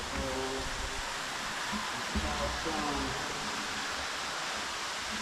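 Water from a waterfall deep down in a hidden pit roars as a steady broadband wash, moderately loud and unbroken, with faint voices and a few brief tones over it.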